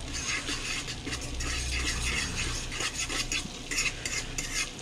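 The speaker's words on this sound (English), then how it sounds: "Trying to stir this with a fork is not working out for me." A fork stirs and scrapes through crab stew in a hot pan, producing continuous clinking and scraping strokes over a soft sizzle, close and moderately quiet, with no talking.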